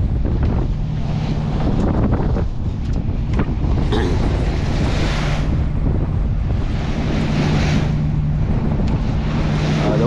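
Steady wind buffeting the microphone over choppy ocean water on a cloudy day, with waves slapping and a constant low engine hum from a rocking fishing boat. No talking.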